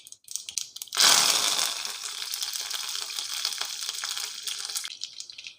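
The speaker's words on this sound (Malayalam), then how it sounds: "നല്ലെണ്ണ ചൂടായി വരുമ്പോൾ നമുക്കതിലേക്ക് ഒരു ടീസ്പൂൺ കടുക് ചേർത്ത് കൊടുത്തേക്കാം കടുക് പൊട്ടി വരുന്ന സമയത്ത്" Mustard seeds spluttering and popping in hot sesame oil, a dense crackling sizzle that starts abruptly and continues steadily at close range.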